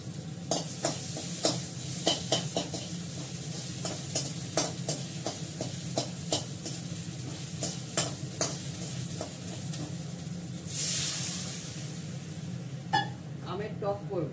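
Ginger paste sizzles in a hot pan while a utensil scrapes and stirs it in irregular taps and scrapes, a steady low frying hiss underneath, close and moderately quiet.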